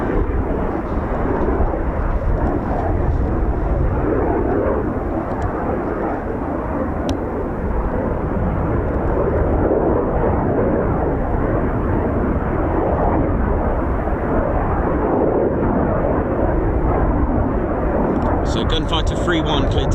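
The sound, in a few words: Eurofighter Typhoon FGR4 fighter jet low approach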